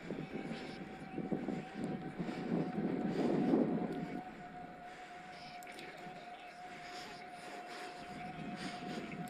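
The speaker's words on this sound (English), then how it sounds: "If you wonder what that whirring is, that's the Miler X20" A Miler X20 whirs on a bike climbing a smooth-tarmac road toward Llyn Brenig, a continuous mid-pitched mechanical hum with a steady tonal whine, under wind and road rumble that swell and then ease.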